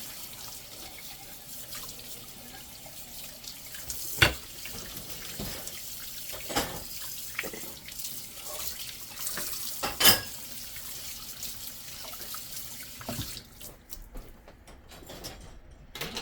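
A kitchen sink tap runs steadily while Scrub Daddy sponges are rinsed under it. The soft splashing flow is broken by occasional sharp knocks and clatters against the basin, near and fairly quiet throughout.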